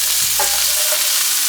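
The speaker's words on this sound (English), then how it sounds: "Next one in the pan is our peppers and onions that we just chopped." Chopped peppers and onions hit a pan of hot extra virgin olive oil, giving a close, steady broadband sizzle with a brief clatter as they land, continuing alone without talk.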